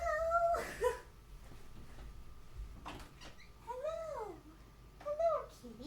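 A domestic cat meows indoors in a few drawn-out, rising-and-falling calls spread across the second half, with a brief bump and a woman's short spoken greeting earlier.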